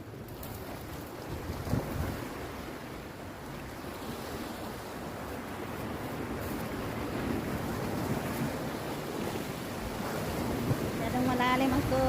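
Ocean surf rolls in at South Bay Beach at high tide, a continuous wash of breaking waves mixed with wind buffeting the microphone, growing slightly louder toward the end.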